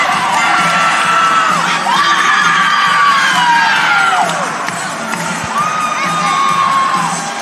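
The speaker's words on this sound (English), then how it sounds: "They're cheering, getting them ready, trying to get them motivated and excited to go." Fairmont State fans cheering at the Mountain East acrobatics and tumbling final, a loud crowd of shrill shouts and whoops rising and falling continuously.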